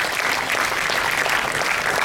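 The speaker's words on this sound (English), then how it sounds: "can we clap for these parents here?" An indoor audience at a career counselling session applauds parents, a dense, steady burst of clapping from many hands, loud and close, with no talk over it.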